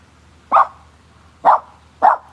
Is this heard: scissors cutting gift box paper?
no